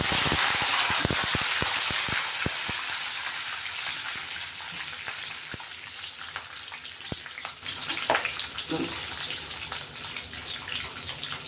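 Curry leaves frying in hot oil, a loud hissing sizzle with a burst of sharp crackles and pops at the start that gradually settles into a steadier, softer spitting fry.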